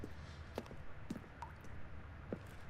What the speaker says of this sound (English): little bit of water's dripping.